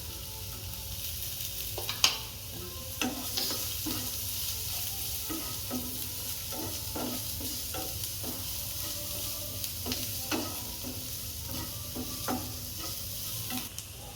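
Chopped garlic fries in a pan for a homemade pizza, a steady low sizzle broken by scattered scrapes and taps of a spoon stirring it, close up and without talk.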